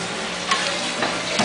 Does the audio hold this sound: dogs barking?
no